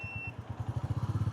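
A new Royal Enfield Bullet 350 single-cylinder motorcycle, still being run in, pulls away, its low engine thumps starting irregular and quickening into a steady, strong pulsing beat close by, with no talk.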